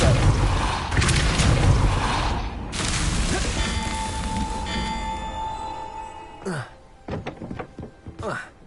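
Depulso force spell cast in the wizarding game Hogwarts Legacy: heavy booming thuds and a resonant whoosh, followed by a few sharp knocks near the end, with a voice speaking.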